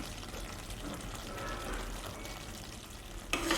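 Ghee payasam is stirred in a pan as it dries, with a quiet continuous sizzle and spoon scraping, a sharper clatter right at the end, and no speech.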